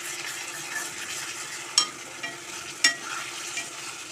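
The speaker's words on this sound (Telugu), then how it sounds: "ఎగ్స్ కొంచెం ఆయిల్లో ఫ్రై కావాలి." Eggs frying in oil in a pan for an egg and tomato dish, a constant close sizzle with a couple of sharp stirring clinks.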